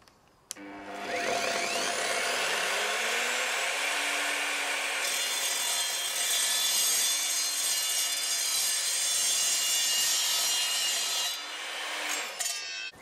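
An Evolution R255SMS sliding mitre saw cuts 3mm steel tubing. The motor spins up and the blade grinds in a loud, continuous metallic whine for about ten seconds, then winds down.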